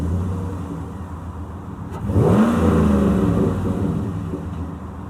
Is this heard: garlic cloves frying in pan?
no